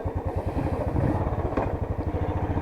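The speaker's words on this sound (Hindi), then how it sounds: "तो आज बाइक चलाते हैं" Motorcycle engine running steadily as a bike ride sets off on the Char Dham pilgrimage route toward Badrinath in the Himalayas, with a loud, close, rhythmic low thumping throughout and no voices.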